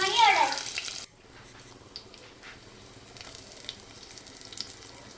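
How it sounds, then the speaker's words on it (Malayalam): Onions and split green chillies hit hot oil in a pan with a loud, sharp sizzle for about a second, then settle into a faint, low frying hiss. "ആ ഉള്ളി അതിൻ്റെ അകത്തോട്ട് ഇടുവാണ്. ഒന്ന് നന്നായിട്ട് വഴറ്റുന്നുണ്ട് കേട്ടോ."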